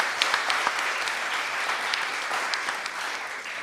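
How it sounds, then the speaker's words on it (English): A room full of people clapping steadily for several seconds, with a few sharper individual claps standing out near the start. "Can we all give one another a round of applause for showing up for yourselves today?"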